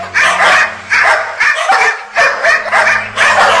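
Several dogs bark in loud, repeated bursts with whimpering yips between them, a close and aggressive pack sound used as a horror-story effect, with no talking.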